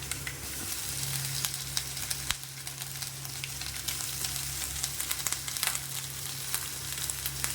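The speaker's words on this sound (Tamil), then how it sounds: "இதை வந்து கொஞ்சம் ப்ரௌனாக வறுத்துக்கணும்." Grated coconut and curry leaves fry quietly in a pan, a soft continuous sizzle dotted with small pops and crackles throughout, with no talk.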